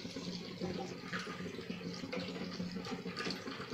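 Boiled milk is poured into melted agar-agar in a pan, making a steady wash of liquid splashing and filling that runs without a break for a few seconds at moderate, close-up volume.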